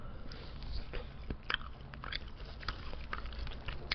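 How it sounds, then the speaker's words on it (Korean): Someone bites into and chews a small salty fried finger chicken piece, giving soft close-up crunches and chewing sounds in a quiet room with no talking. "튀김옷을 지금 좀 먹어봤는데 짭조름합니다."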